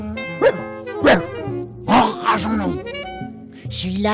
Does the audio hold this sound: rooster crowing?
no